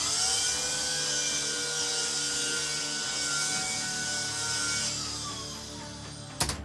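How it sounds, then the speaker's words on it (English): An electric chainsaw cutting into a watermelon gives a steady, close, hairdryer-like whine with a high hiss that holds for about six seconds, then cuts off with a short clatter at the end. Nobody speaks. "My chainsaw that sounds like a hairdryer because it's electric."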